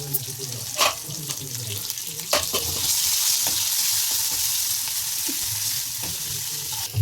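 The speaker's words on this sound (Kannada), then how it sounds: "ಜೀರಿಗೆ ಹಾಕ್ತಾ ಇದ್ದೀನಿ. ಈಗ ಈರುಳ್ಳಿ ಹಾಕ್ತೀನಿ. ಕರಿಬೇವು ಹಾಕ್ತೀನಿ." Cumin, onion and curry leaves drop into hot oil and frying swells into a loud, continuous sizzle after a few utensil clacks, then carries on steadily to the end.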